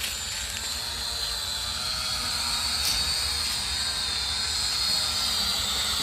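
An E99 brushless motor camera drone flies nearby, giving a steady, continuous high-pitched whirring hum with a hissy edge that stays even in loudness throughout, with no talking.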